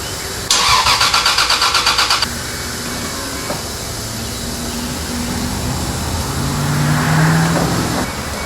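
A 2JZ-swapped Mk III Toyota Supra engine cranks with a rapid rhythmic whirring for about two seconds, then catches and settles into a steady low idle nearby.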